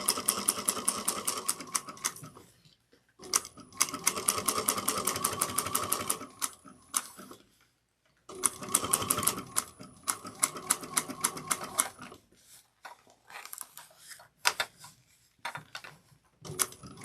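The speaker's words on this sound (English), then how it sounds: "tuck it under and top stitch at 1/8 of an inch onto the exterior" Sewing machine top stitching an eighth of an inch along the exterior of a slouch bag, fast rhythmic needle chatter in several long bursts separated by short pauses, close and steady.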